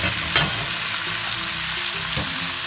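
Prawns and transparent noodles fry in a hot pan, giving a steady, close sizzle throughout with two brief sharper crackles.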